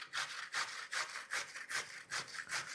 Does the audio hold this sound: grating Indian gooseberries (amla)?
yes